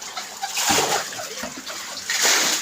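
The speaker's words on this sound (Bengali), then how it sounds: "এই যে আমাকে ঘরের মধ্যে পানি" Floodwater splashes and sloshes inside a house during continuous monsoon rain, with close churning water noise running throughout and a few stronger splashes.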